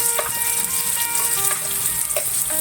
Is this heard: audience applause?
no